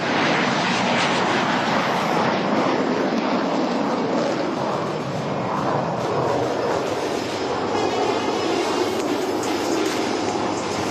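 Three jets from a nine-aircraft display team take off at the Aero India air show. Their engines make a loud, steady, broadband roar that stays close and sustained for the whole stretch.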